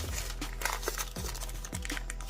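Baking paper crinkles and rustles as cinnamon roll dough is rolled up tightly by hand, giving close, steady crackling with soft rhythmic thumps of the roll being pushed over.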